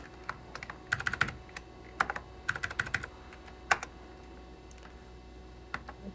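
Someone types on a computer keyboard while working in AppleWorks 4, with bursts of quick clicking keystrokes separated by short pauses, close and clear with no talking.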